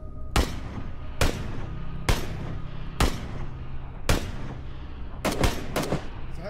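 Single gunshots in the video game PUBG ring out loud and sharp, about eight of them at irregular intervals, the last few coming in a quick burst, with no talk over them.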